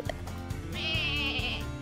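A sheep in the Lumberhill video game bleats once, a clear wavering call near the middle of the short clip, over a steady game background.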